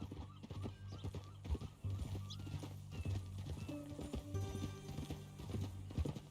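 Horse hooves clip-clop at a steady walking pace in the video game Red Dead Redemption 2, close and clear, with occasional snorts and a whinny over a low hum of game music.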